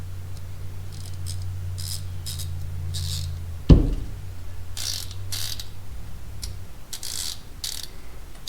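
Modified Icon ratchet clicking in a burst of rapid pawl ticks, with a sharp metallic snap partway through and a low mechanical hum underneath that stops before the end; close and moderately loud.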